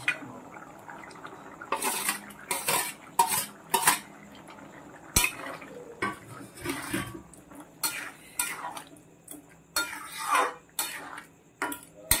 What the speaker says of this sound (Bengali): এবার এর মধ্যে দিয়ে দিলাম ভেজে রাখা পনির